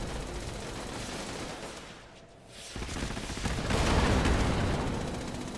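Sustained automatic fire from an X50 MG machine gun in Fallout 76, a loud continuous rattle that dips briefly mid-clip, then returns more intense and dense toward the end.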